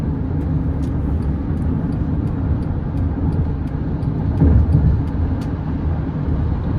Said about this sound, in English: it's pretty much road noise, and the cars around us, we can hear them.